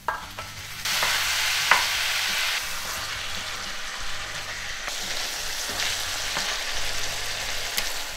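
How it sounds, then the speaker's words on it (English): Two pounds of ground beef frying in a pan with minced garlic and onions for Texas Frito pie, a loud hiss as the meat drops in, then steady sizzling with intermittent stirring scrapes, no talking. "Now I'm going to add 2 pounds of ground beef to our pan."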